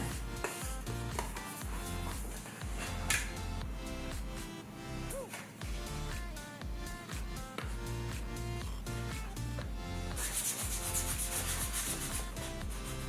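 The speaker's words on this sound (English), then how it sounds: "Smooth the seam with your smoother and flex your smoother." A fondant smoother rubs back and forth over a fondant seam, a close, continuous scraping and brushing texture in repeated strokes with no voices.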